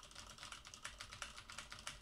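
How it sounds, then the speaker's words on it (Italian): Fast, steady typing on a mechanical keyboard with Cherry MX Red switches is picked up faintly by a cardioid dynamic microphone. The key clicks form a dense, even stream, with no voice. "sto scrivendo qualcosina sulla mia tastiera, che è una tastiera meccanica con Cherry MX rossi"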